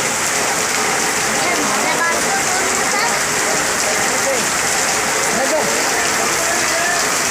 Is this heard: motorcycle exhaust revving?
no